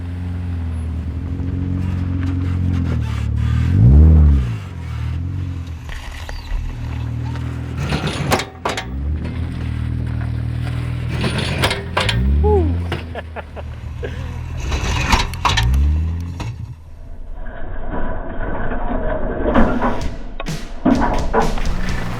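A Jeep crawls off-road over rough terrain, putting its differential and oil pan skid plates to the test, with a steady low engine rumble, loud thumps and scrapes from underneath, and occasional revving swells.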